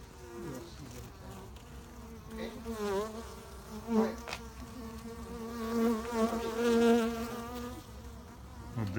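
A loud, close buzzing of honeybees fills the air, the droning hum rising and wavering as the bees fly past.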